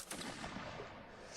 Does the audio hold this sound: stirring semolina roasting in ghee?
no